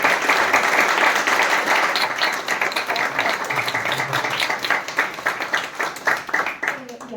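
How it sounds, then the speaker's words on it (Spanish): An audience at a conference on communication applauds with loud, steady clapping that continues throughout and eases slightly near the end. "Lo primero, un aplauso."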